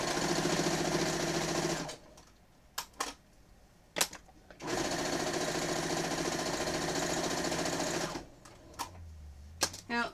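A sewing machine stitches quilt binding in two steady runs of rapid, close mechanical whirring, separated by a quiet gap with small clicks and handling noises, and another short pause near the end.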